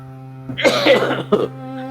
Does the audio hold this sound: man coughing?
yes